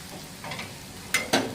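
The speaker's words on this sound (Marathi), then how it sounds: "टमाटा प्युरी हिरवी मिरची लसूण हे चांगलं असं एकदम मस्तपैकी फ्राय झालेलं आहे" Tomato puree with green chili and garlic fries in a pan for an egg masala, a soft, faint sizzle broken by two sharp scrapes of a spoon stirring.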